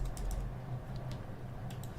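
Someone types on a computer keyboard to enter a frame height, producing several quick bursts of crisp key clicks close to the microphone over a faint low room hum.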